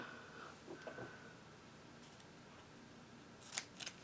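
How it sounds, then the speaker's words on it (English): Scissors snip through a small piece of foam tape during card crafting, giving a few faint, quick cuts close by with soft handling noise between them. "I do want to cut a small piece of this foam tape"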